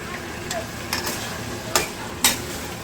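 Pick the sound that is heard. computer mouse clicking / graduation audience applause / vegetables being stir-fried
vegetables being stir-fried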